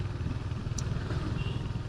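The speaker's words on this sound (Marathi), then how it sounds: "आपली बाईक ऑलमोस्ट 60च्या स्पीडनं आरामात चाललेली आहे." Motorcycle cruising at about 60 km/h on an open, empty road at night in Agra, giving a steady low engine drone with wind rush throughout and no talking.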